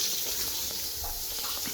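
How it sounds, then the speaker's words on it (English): A faucet runs steadily during a final walk-through inspection of a home being purchased, a constant hiss of water at moderate level with no talk over it. "Again, run the water."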